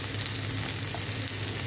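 Mixed vegetables sautéing in a pan, a steady, loud, close sizzle that continues without a break and with no talking.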